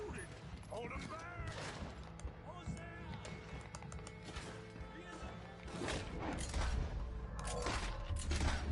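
Gunfire in Red Dead Redemption 2 during a shootout, repeated cracks and impacts mixed with creaks and crashes, under frequent speech from characters.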